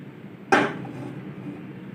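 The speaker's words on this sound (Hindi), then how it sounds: "पैन चढ़ाएंगे चूल्हे पर" A single short metallic clank as a pan is set down on a stove while making rava appam, sharp and close, followed by quiet room hum.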